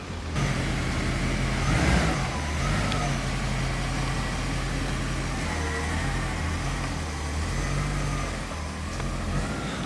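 A car with a newly repaired clutch driving slowly around a parking lot, its engine running steadily with a low rumble and a mild rev near the start, heard close up.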